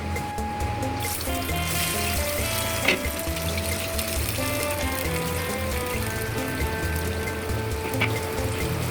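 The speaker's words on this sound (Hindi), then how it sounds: "अब हम ज़रा भी देर किए बगैर इसे अपने प्री हीट ऑयल में डाल देंगे और तकरीबन दरमियानी आंच पर लाइट गोल्डन ब्राउन होने तक फ्राई करेंगे" Battered potato chips frying in preheated oil over medium heat, a steady dense crackle and sizzle running throughout with faint bubbling, no voices.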